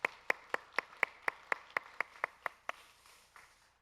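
Slow, evenly spaced hand claps at a Wednesday church service in Korea, about fourteen sharp claps in a steady rhythm that gradually fade out, close and fairly quiet.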